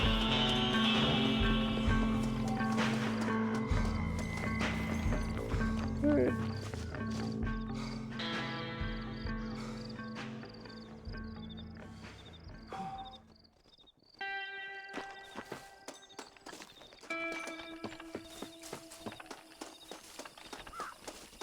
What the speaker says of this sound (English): Um cavalo, cara.